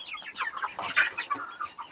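Chickens cluck and call in a busy, overlapping run of short squawks and chirps, fairly close and steady throughout; these are young birds about to be let out for a walk.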